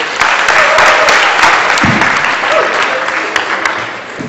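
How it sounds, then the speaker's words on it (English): Audience at an all-students meeting applauds steadily throughout, a dense, fairly loud wash of clapping from a full room that tapers slightly toward the end. "Round of applause."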